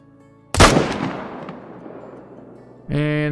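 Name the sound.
M1 rifle shot at whitetail deer in video game Call of the Wild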